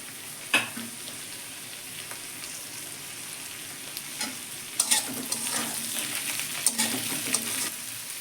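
Papaya, potato, tomato and onion fry in oil in a pan, a close, steady sizzle broken by scattered clinks and scrapes of stirring, with no voices.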